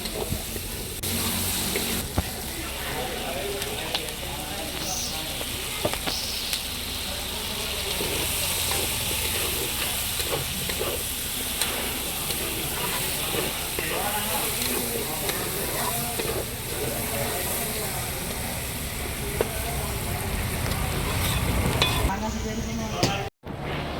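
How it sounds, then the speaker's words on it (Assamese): Onions and potatoes frying in rendered pork fat, a loud, continuous close sizzle with stirring scrapes throughout, steady and dense without talk. "গাহৰিৰ পৰা যিমানখিনি তেল ওলালে সেইখিনিতে মই এতিয়া পিঁয়াজ আলুখিনি ৰঙচুৱাকৈ ভাজি ল'ম।"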